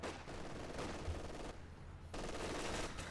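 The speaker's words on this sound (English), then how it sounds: "these MG42s are causing havoc on Spanky" MG42 machine guns fire in Company of Heroes 2, bursts of rapid automatic gunfire crackling in a busy battle mix, with a short lull midway before the firing resumes.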